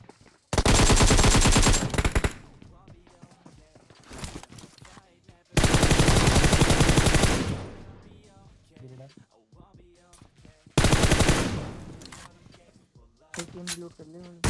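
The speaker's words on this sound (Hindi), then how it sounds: "एकेएम लेके खड़ा हूँ, मैं गोली भी चला रहा हूँ" Rapid automatic AKM rifle fire in PUBG Mobile, three loud sustained bursts of a couple of seconds each, separated by quieter stretches where someone speaks.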